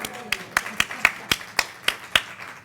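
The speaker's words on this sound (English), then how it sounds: "Well, we can clap for her anyway." Clapping at a golden diploma ceremony for a class reunion: about nine sharp, evenly spaced handclaps in a slow rhythm, close and distinct rather than a full crowd.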